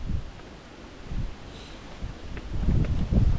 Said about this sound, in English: It's still a bit breezy.